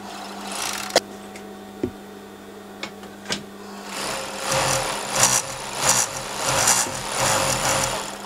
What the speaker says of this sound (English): while I'm on the overlocker, I'll just overlock certain parts of his trousers